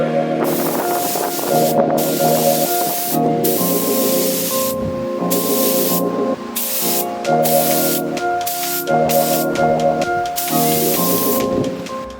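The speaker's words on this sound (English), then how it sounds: "spray some more high build primer right over top" Spray gun laying high build primer over a custom fibreglass front splitter for a 1968 C10 build, loud hissing bursts that start and stop in several separate passes, with brief pauses between.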